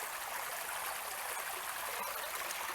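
A stream in the woods flows steadily, a continuous near rush and hiss of running water with no voices over it.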